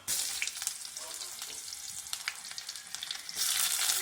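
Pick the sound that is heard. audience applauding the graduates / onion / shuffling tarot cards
onion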